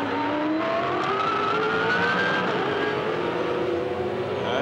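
A V8 Supercar accelerates away from a pit stop during the 2007 Sandown 500 endurance race, its engine note rising steadily and loud over dense, continuous track noise with other cars droning in the background.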